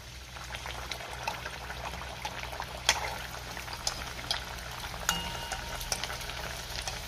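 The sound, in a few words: leftover rice vada deep frying in oil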